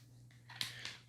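A Makita grout removal blade's packaging is cut open: a few short, crisp snipping and crinkling bursts, quiet and close, with no voices.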